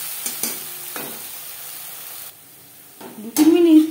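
A ground paste of tomato, ginger and three green chilies goes into hot oil for a fish curry. Brief spatula scrapes and soft sizzling lead to a louder hiss near the end, close by, with a short moment of near silence in between.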